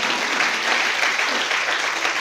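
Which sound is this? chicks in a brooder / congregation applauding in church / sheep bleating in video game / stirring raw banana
congregation applauding in church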